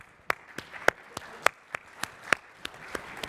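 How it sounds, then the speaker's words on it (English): Crisp, evenly spaced claps from a conference audience at an airport passenger-experience event ring out about three per second, close and distinct, sounding like a small group clapping rather than a full crowd. "So a round of applause for them."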